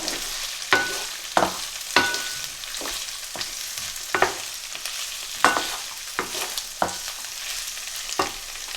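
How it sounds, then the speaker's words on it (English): Cashew nuts and ingredients stir-fried in a hot pan for Pakistani-style chicken spaghetti, a steady sizzle broken by repeated sharp scrapes and taps of a spatula about once a second, close and without speech. "Stir fry for a few seconds, and then the spices are next."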